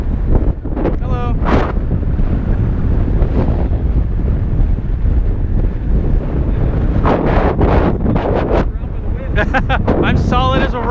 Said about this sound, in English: The wind feels great.